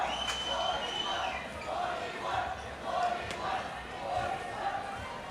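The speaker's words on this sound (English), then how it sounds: "A lot of cheering from the other court as well." Crowd cheering carries from a neighbouring court during a men's dodgeball world championship semifinal, forming a distant, muffled swell of voices that rises and falls in waves with no nearby talk.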